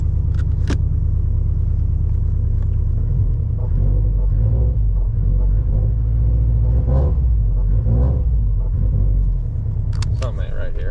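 A Subaru STi engine idles and revs with a steady low rumble, its pitch rising and falling in several swells, with a faint jingle of keys near the start.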